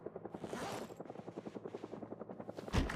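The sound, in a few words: helicopter event in the video game Cataclysm: Dark Days Ahead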